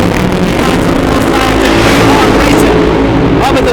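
Drag race cars, Attitude Adjuster and High Risk, launch down the strip at a race track with a loud, steady engine roar that holds for several seconds.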